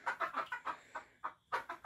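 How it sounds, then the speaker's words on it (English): Hens in a backyard chicken run, newly arrived after a truck ride, cluck in a quick run of short close calls with brief pauses, no talking. "I'm in the chicken run, and our girls are home"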